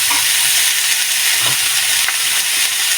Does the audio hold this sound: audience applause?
no